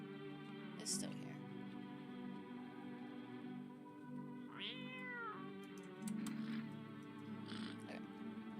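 A cat meows in a video game, a few soft, drawn-out cries spread across several seconds over a steady background hum, fairly faint and distant.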